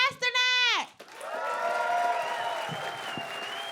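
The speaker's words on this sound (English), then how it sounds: "Humans, clap for Dan Pasternak!" Audience applause at the SXSW Comedy 2022 conversation with John Cleese swells into a sustained wash of clapping and cheering from a crowd, following a brief loud voice at the start.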